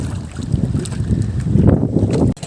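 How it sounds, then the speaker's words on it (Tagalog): Strong wind buffets the microphone in loud, rumbling gusts, roaring continuously before cutting off abruptly at the end. "Biglang lumakas yung hangin."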